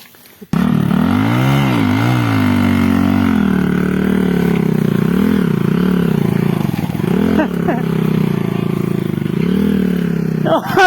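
A motorcycle engine runs close by, its pitch rising and falling as the throttle is revved repeatedly, with brief mechanical clatter.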